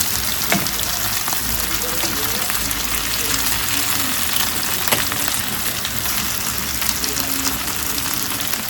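Meat fries in a pan with a steady, close sizzling crackle, the odd scrape of stirring breaking through.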